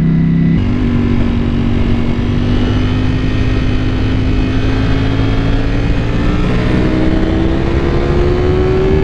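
A Ducati Panigale V4 S ridden at speed, its engine revving loud and close with a steadily rising pitch through the whole stretch, wind roar underneath and no talk.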